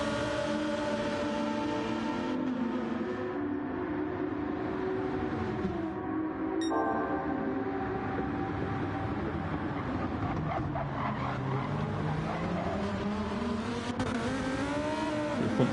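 GT2 race cars, Vipers among them, lapping the Red Bull Ring in a racing video game, with engine notes rising and falling in steady sustained whines over the whole stretch and no talk.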